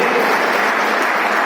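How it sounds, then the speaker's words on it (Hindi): Dense, steady applause from a conference audience in Bihar welcoming an 85-year-old guest, a short continuous burst of many hands clapping with no pauses. "ये 85 साल के ताली बजाकर स्वागत करेंगे"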